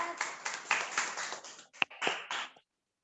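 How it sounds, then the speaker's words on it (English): Students in a classroom clap together in a short burst of applause lasting about two seconds, followed by a couple of sharp single claps before it stops. "Clap பண்ணுங்க எல்லாரும்."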